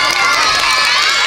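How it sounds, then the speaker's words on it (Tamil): A large audience at a primary school's annual day event cheers, shouts and claps in a loud, continuous burst, with children's voices prominent in the noisy crowd. "மறுபடியும் ஒரு டைம் நல்ல சவுண்ட் அண்ட் கிளாப்ஸ் கொடுத்துருவோம்."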